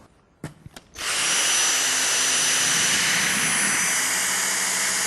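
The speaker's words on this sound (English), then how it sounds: "the combination of the V6 motor, the two-tier cyclones and the carbon fibre bristles means we can achieve really effective fine dust pickup on hard floors" A Dyson V6 cordless vacuum picking up fine dust on a hard floor: a few clicks, then the motor spins up into a loud, steady high-pitched whine that holds close and unbroken.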